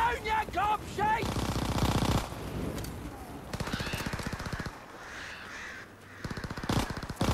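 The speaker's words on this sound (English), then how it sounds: "Got hit by a bunch of fucking crows." Crows cawing and swarming in an attack during a Call of Duty Zombies match, loud and close, mixed with bursts of rapid machine-gun fire and game effects.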